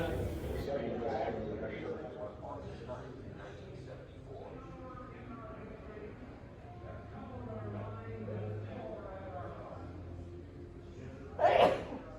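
A single sharp sneeze bursts out near the end, off to the side, while a person keeps talking in a room with faint background murmur.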